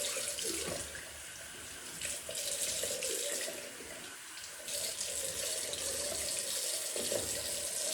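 Cold water runs steadily from a sink tap while a shaving brush is rinsed, a continuous close hiss and splash lasting throughout with no talking.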